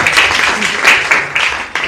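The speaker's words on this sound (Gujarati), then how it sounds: "જોરદાર તાળીઓ" Audience applause during a lecture, a moderate patter of clapping with a few sharper surges, steady and fairly close throughout.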